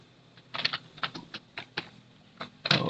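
Keystrokes tap out a file name on a computer keyboard, a quick irregular run of about a dozen close, crisp clicks with short pauses, ending in a denser burst.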